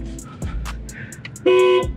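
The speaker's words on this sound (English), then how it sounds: "I accidentally pressed the honk" A Jeep Wrangler 3.6L Rubicon three-door's horn gives one loud, steady blast of about a third of a second near the end, after a stretch of quiet interior rustling and handling noise.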